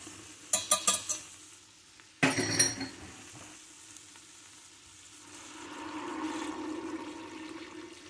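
Homemade broth is poured into a Thai pumpkin soup with yellow curry: two short splashing bursts of liquid, a quiet pause, then a soft bubbling simmer building gently.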